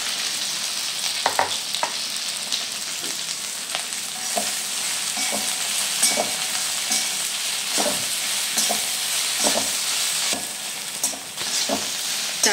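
Okra frying in a pan for a fasting-day Navratri dish, a continuous oily sizzle with intermittent scraping knocks of a spoon stirring the pieces, close and steady with no talking.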